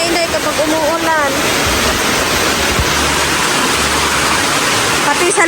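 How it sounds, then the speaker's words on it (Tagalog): Heavy rain pours onto a house, a dense continuous roar of water that fills the whole clip loudly, with a few faint higher sounds at the start. "ganito lang po yung ulan namin dito"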